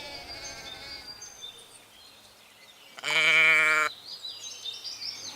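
A sheep on a farm lets out one loud, wavering bleat lasting about a second, rising out of quiet rustling background noise with no one speaking.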